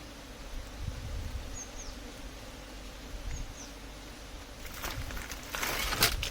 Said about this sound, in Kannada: ಆಲ್ಮೋಸ್ಟು ಅಲ್ಲಿ ಕುಂತಿರೋ ಜೇನು ಆಲ್ಮೋಸ್ಟು ಬಾಕ್ಸ್ ಒಳಗಡೆಗೆ ಹೋಗ್ತಿದೆ